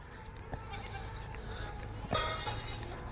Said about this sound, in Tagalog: Ayun na mga kambing.